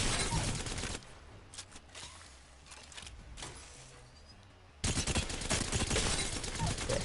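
Rapid gunfire from a favored gun in Apex Legends, loud dense bursts at the start and again near the end with a quieter stretch of scattered shots in between.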